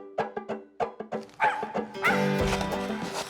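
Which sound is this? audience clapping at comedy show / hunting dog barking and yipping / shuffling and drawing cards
hunting dog barking and yipping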